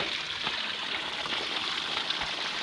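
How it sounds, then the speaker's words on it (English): Water sprays and hisses steadily out of a sinking jet sail boat, a continuous close rushing splash with no speech over it. "It's just spraying water out of there."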